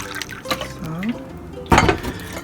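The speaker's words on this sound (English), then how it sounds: "You can just pour the water little by little" Water trickles and drips into a bowl of kimchi pancake batter in short pours, followed by a louder splashing gush near the end.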